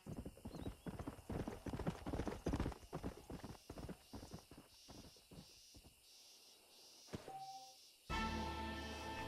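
Horse hooves clip-clop at a steady trot in Red Dead Redemption, rhythmic and close, fading out before a whinny and a burst of game ambience.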